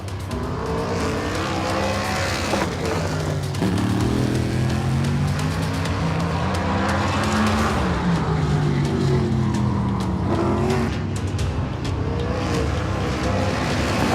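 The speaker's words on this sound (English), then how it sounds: "Tim Brown turns in a lap." A modified race car runs a qualifying lap at Bowman Gray Stadium, its engine roaring loud and close with revving surges and pitch swings as it accelerates and lifts through the short oval's turns.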